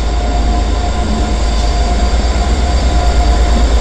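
A train passing through Carnforth Station, a steady loud rumble of rolling wagons and wheels on rails, close by and continuous with no pauses.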